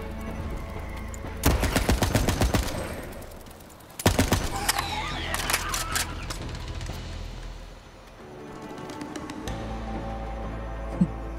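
Video game gunfire in Borderlands 3: loud automatic bursts of rapid shots, a long burst, then another volley and scattered later shots over game ambience.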